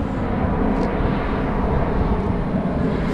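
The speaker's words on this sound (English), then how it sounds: "we might go watch the airplanes landing" A fixed-wing airplane drones steadily overhead near a city cemetery, a dense, continuous low rumble with a broad wash of engine noise that holds level throughout, no voices over it.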